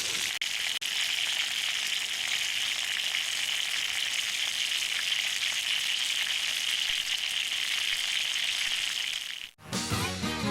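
Lenok and grayling fish sizzle and fry steadily in a pan over a wood-fired campfire on a taiga riverbank, a loud continuous crackling hiss that cuts off near the end.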